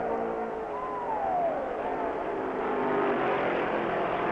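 A 1965 NASCAR stock car races past at Rockingham Speedway, its engine note sliding down in pitch as it streaks by amid the steady roar of other cars on track.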